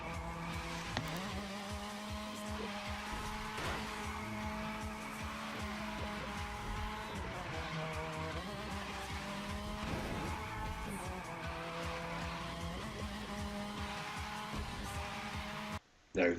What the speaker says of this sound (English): sliding around the streets in your highly tuned drift car